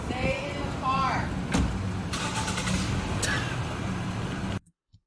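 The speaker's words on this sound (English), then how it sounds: "when the car starts up, we call that a clue" A car engine starts up during a police stop, a rough crank and catch under voices, followed by a low running rumble that cuts off abruptly near the end.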